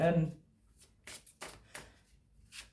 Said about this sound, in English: So my number 8, let's pull 3 cards.